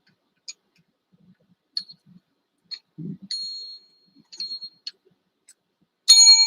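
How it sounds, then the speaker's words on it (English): Small repaired bell on a prop, sparse ticking clicks and brief taps building to a bright ringing at the end, close and otherwise quiet. "Got the bell working again."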